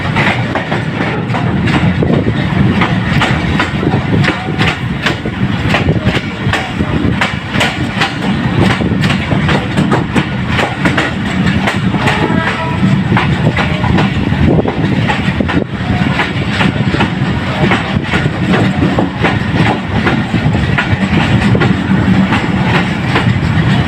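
A passenger train runs on rails between Rohri and Larkana, its wheels clattering in a loud, continuous clickety-clack rhythm heard from inside, steady throughout with no talking.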